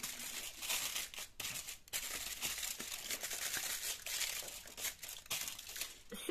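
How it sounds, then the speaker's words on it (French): Aluminium foil is crumpled and pressed onto a mould for a mask, giving close, continuous crinkling and rustling with irregular bursts and no speech. "Moi, je vais d'abord mettre ce papier d'aluminium."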